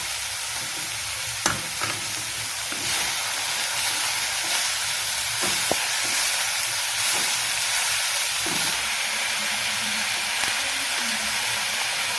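Chopped onion sizzling as it fries in a pan while being stirred for spring onion stalk thoran, a steady close hiss and crackle with a few sharp clinks of a spoon against the pan.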